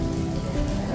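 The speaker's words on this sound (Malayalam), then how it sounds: "മഴ മഴ മഴ." Rain falls during a college Onam celebration, a brief, steady hiss of drops spread evenly across the moment.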